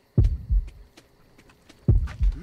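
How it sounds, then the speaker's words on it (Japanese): Eerie heartbeat in the horror game Horrorfield: two paired low thumps, a double beat near the start and another about two seconds later, deep and close in an otherwise quiet background. "なんか心音がドクンドクンと不気味になってますね。"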